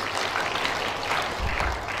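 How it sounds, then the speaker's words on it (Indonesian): Audience applause at a university graduation ceremony, a dense, steady patter of clapping from a large crowd that carries on at an even level from start to finish. "Tepuk tangan untuk kita semua."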